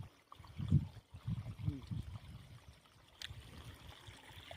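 Water let into a farm field channel runs as a faint, steady trickle, with low rumbling surges near the start and no voices.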